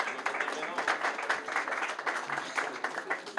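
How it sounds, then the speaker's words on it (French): Audience at an awards ceremony for a real estate event claps steadily and densely throughout, a continuous patter of many hands at moderate distance with no clear gaps. "On peut les applaudir."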